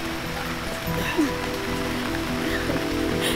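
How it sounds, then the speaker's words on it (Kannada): Rain falls steadily in a continuous close patter of drops on surfaces, moderately loud and even throughout, with a few faint tonal sounds mixed in. "ಮಳೆ ಬರ್ತಾ ಇದೆ, ಎದೋಡಿ."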